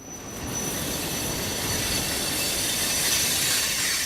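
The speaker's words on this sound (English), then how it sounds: "Believe it or not, trains still go by." A train rolls past on a busy rail line in Buffalo, a steady, loud, close rumble of wheels on track with a faint high squeal running through it, no voices.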